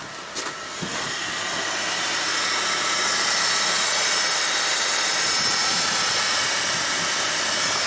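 A 2.0-litre turbocharged F4RT petrol engine in a Renault Avantime, idling smoothly after an injector replacement, starting with a brief crank and then settling into a steady, loud, continuous hum and whir with no speech.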